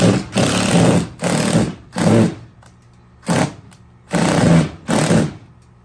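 A power driver runs screws in while fixing a Costco Koolspot outdoor sun shade track mount, sounding as a series of loud, close buzzing bursts of about half a second each with brief gaps between them and no talk.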